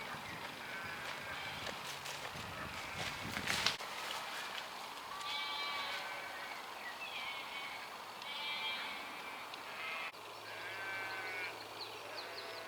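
Sheep bleat repeatedly in a grassy Hampshire field, several calls near and farther off in a loose irregular rhythm over faint outdoor ambience and a low steady hum.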